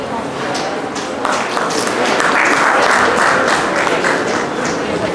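An audience at a Miss Yoga India event claps loudly and continuously, a dense close wash of applause that builds after the first second and holds steady.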